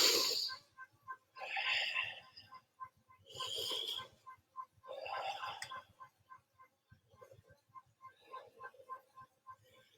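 Slow, deep breaths during the warm-up of an hour-long workout, soft airy exhales rising and falling in regular waves, close and quiet over a faint rhythmic background beat.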